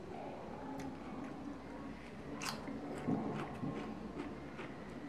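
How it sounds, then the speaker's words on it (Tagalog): Soft crunchy bites and chewing of a cucumber, a few crisp snaps over a quiet background hum. "Malutong pa yung cucumber."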